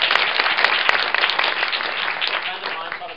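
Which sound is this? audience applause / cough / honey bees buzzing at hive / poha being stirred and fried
audience applause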